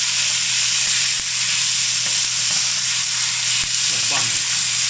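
Ground meat frying in a hot pan while cooking fly's head stir-fry, with a loud, steady sizzle throughout and faint stirring clicks beneath it.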